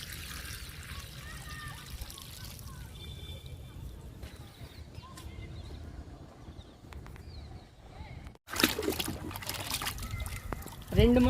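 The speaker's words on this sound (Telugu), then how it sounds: "నిమ్మ మొక్కకి ఇచ్చేద్దాము లిక్విడ్ని." Liquid fertilizer mix trickles and splashes onto the soil of a potted lemon plant, a faint steady pour under a low background hum that grows into a louder, close splatter near the end.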